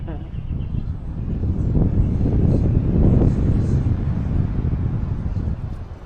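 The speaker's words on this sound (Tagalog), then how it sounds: "Malakas na yung hangin yun" Strong wind during paragliding in Valencia, Bukidnon buffets the microphone in a low, rumbling roar that swells and eases, with voices faintly mixed in.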